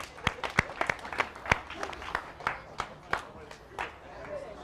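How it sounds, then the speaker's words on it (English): Workshop participants at a TopGolf session in Hillsboro, Oregon clap after a warm-up, a sparse, uneven round of separate hand claps fairly close by, with some murmuring among the group. "give yourself a round of applause"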